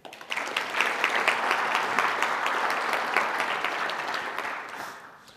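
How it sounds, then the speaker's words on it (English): A conference crowd at the PyConZA opening ceremony breaks into warm applause that holds steady for several seconds and then fades out. "So everyone, please give them a round of applause."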